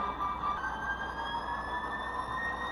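Auscision CLF class model locomotive with an ESU sound decoder idling low: a steady, quiet diesel hum with faint tonal whine, continuous and alone.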